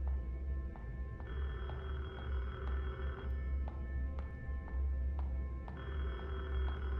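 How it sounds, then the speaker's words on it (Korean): An old-style telephone rings in the horror video game Detention, with repeated bell-like tones over a steady low game ambience and no talking. "전화 온다."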